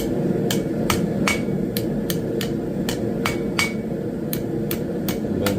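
Hammer on hot steel rings out in a steady series of sharp metallic strikes while a forged bracket is bent for a mason jar candle holder. The blows come about every half second over a constant background hum.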